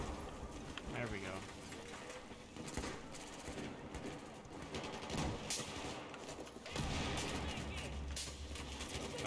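Battlefield 4 gunfire crackles steadily through the match, rapid automatic bursts and distant explosive shots layered over busy game noise, with a player talking over it.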